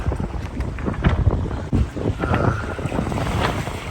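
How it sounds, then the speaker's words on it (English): Steady wind noise on the microphone aboard a sailing catamaran in New Zealand's Bay of Islands, a gusty rumbling roar with water and boat sounds mixed in, continuous and fairly loud throughout. "Wind has certainly come down a bit"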